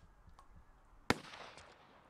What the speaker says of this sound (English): Did you not hear that gunshot?